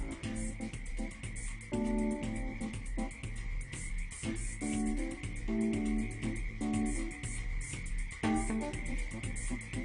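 Several frogs croak together in a dense chorus, with repeated rhythmic calls overlapping a steady insect-like buzz, loud and continuous with no speech.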